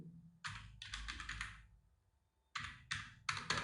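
Bursts of rapid key clicks on a computer keyboard, close and clear, in two runs separated by a pause, with no talking.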